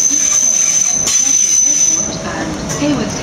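A train runs at Clapham Junction station in the evening, with loud rolling wheels and a steady high-pitched wheel squeal that fades partway through, heard close over platform ambience and a faint public-address voice.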